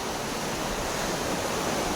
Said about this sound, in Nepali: नमस्ते झरना आएको